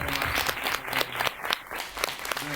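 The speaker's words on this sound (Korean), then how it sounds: "감독님께 큰 박수 부탁드리겠습니다" An audience applauds a film director at a Korean movie talk event, with dense, continuous clapping from a sizable crowd held at even loudness for the whole stretch.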